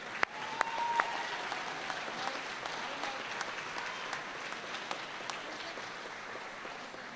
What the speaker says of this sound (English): one more round of applause for our Nationally Board Certified teachers